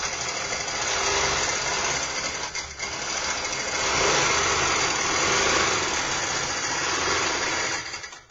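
A sewing machine runs steadily, stitching down quilt binding with its needle-down setting. The whirring drone is close and continuous for the whole stretch, with only a brief dip partway through and no talking.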